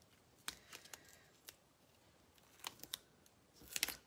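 Scissors snip through paper strips in a quiet room, a handful of sharp separate cuts spread out and then a quick flurry of snips near the end, with no talking.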